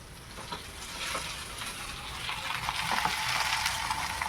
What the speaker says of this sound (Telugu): ఈ గోంగూర అయితే ఇందులో వేసుకోవాలి